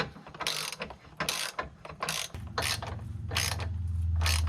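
A ratchet cranks a 21mm bolt during a Per4mance DIRS differential install on an SRT Hellcat, giving bursts of rapid, close clicking strokes, with a low steady hum rising under the last strokes.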